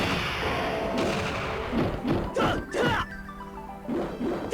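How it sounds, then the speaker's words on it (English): Cloud's suicide dive attack landing in the fighting game Ehrgeiz: God Bless the Ring, a series of heavy smashing and thudding impacts in quick succession over constant game sound. "Oh nice, I forgot Cloud has that suicide dive attack."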